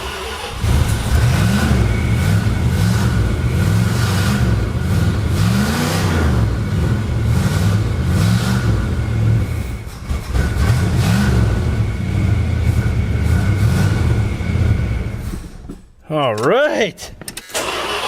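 A 53,000-mile Dodge Diplomat engine with a leaking fuel line revs in rising and falling surges, then settles toward a rough idle, loud and close, while someone speaks briefly over it.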